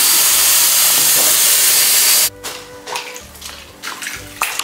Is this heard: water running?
yes